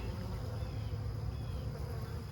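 Honeybees buzzing in an open hive after a killing frost, a dense, steady hum filling the whole moment, close and fairly soft, with no talking.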